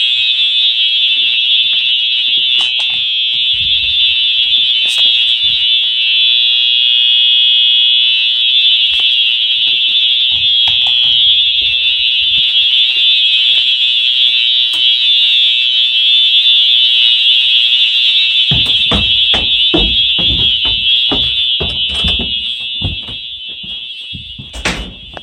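A 1990s Wheelock fire alarm sounds continuously during a test, a loud, piercing, steady electronic tone held for over twenty seconds, with faint clicks and knocks beneath it and louder handling noises near the end.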